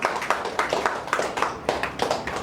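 An audience at a felicitation event for a charcoal artist claps in a steady, even rhythm. The sharp claps come close together at a moderate level.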